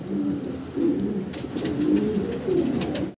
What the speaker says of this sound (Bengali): অনেক বড় সড়ো সাইজের বাচ্চা কবুতর।